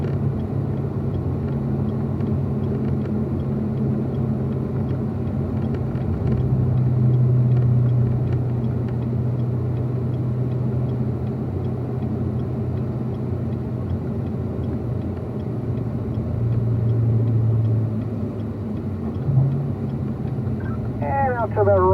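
A Corvette driving on a race track, a steady low engine rumble with rises and falls in pitch as it accelerates, while an instructor talks over it.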